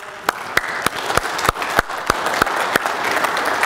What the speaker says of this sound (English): all you mothers who've had your hands full, we give a round of applause this morning